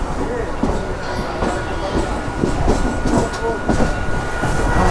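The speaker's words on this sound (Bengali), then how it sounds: "এই যে আমাদের ট্রেনটা এবার ডায়মন্ড হারবার স্টেশনের দিকে যাচ্ছে" A crowded suburban train rolls toward Diamond Harbour station, its wheels clattering in a steady clickety-clack with a loud, constant rumble, with voices murmuring faintly in the background.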